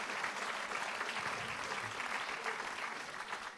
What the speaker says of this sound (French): Donc oui, j'aimerais bien qu'on les applaudisse.